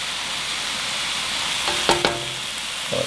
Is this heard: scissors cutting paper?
no